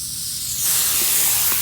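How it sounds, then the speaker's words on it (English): A steady, loud hiss of water spray rinses the dirty wheel and tire of a Duramax truck after off-roading. The spray swells stronger partway through and runs continuously, with no talk. "Now I'm just gonna rinse off the other wheel and tire"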